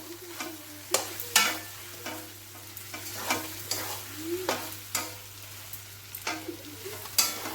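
Chicken and potato mince filling stirred in a pan, with repeated scraping, stirring strokes and faint sizzling, close and moderately loud with no talking.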